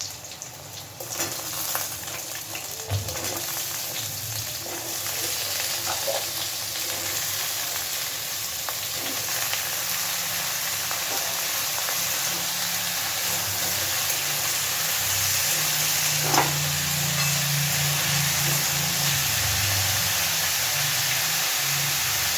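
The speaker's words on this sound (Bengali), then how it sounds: "পেঁয়াজ কাঁচা লঙ্কার সাথে একসাথেই আমি আলুটাও দিয়ে দিচ্ছি।" Potatoes fry in a pan with onion and green chillies, hissing and sizzling steadily at close range for the whole stretch, with occasional stirring scrapes and a slightly louder crackle toward the end.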